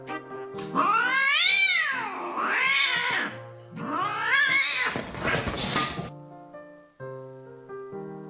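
A small kitten meows and caterwauls in long, drawn-out, rising and falling cries, two extended loud calls close to the microphone, followed by a quieter tonal tail.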